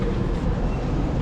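A two-carriage train sits at a platform in Leeds station on a drizzly day, giving a steady low rumble that stays even and close throughout with no talking.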